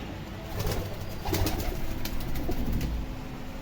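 Pigeons kept in pairs cooing close by, a continuous low murmur of coos with soft rustling and no talk.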